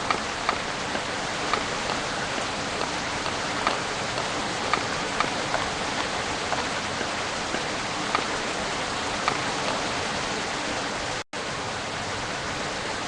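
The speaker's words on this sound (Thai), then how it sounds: "ฝนก็ตก" Steady rain pours in Sakura School Simulator, a dense even hiss with faint scattered drop ticks, moderately loud and constant throughout, cutting out for a moment near the end, with no voices.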